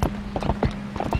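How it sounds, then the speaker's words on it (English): A horse gallops in The Legend of Zelda: Twilight Princess HD, with quick, loud, close hoofbeats in a rapid clip-clop rhythm over a steady low game hum. "I'm just sitting here whipping my horse"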